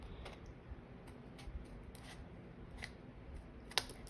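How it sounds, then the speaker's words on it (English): Scissors snipping through cardstock while trimming a snowy-eve Z-fold easel card, with soft, close, repeated cuts and a sharper snip near the end, no voice present. "my scissors are going"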